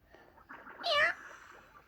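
A single drawn-out meow around the middle, clearly a person mimicking a cat, with faint background noise before and after.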